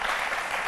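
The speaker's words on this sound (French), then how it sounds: "Applaudissez pour les sages-femmes." An audience claps for midwives in a television studio, a dense continuous applause that fills the whole short stretch without any speech.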